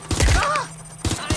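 Gunfire in Watch Dogs Legion, a few sharp close shots in quick succession, then a pause with a pitched electronic warble, followed by another short burst of rapid shots.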